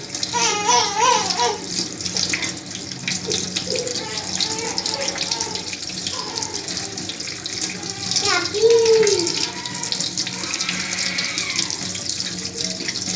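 Tap water runs steadily and splashes into a basin while wheat flour dough is kneaded and washed by hand, a continuous close watery rush with several people talking over it.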